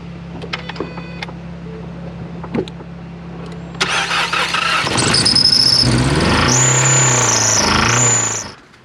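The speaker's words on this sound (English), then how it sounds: "Let's give it a couple nice revs to finish it off." A 2016 Ford Focus 2.0L with a failed, knocking engine cranks with a brief squeal. It catches, then revs loudly for several seconds with a whining, rising tone before cutting off abruptly.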